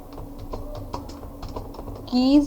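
Python code is typed on a computer keyboard in a steady run of close, light key clicks, with a brief tonal sound near the end.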